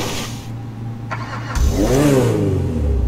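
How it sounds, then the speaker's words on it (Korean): Maxwell Vagrant sports car in GTA 5 starting up with a rising engine note, then revving loudly with climbing and falling pitch sweeps, close and alone. "이 차의 엔진 소리 한번 들어볼게요"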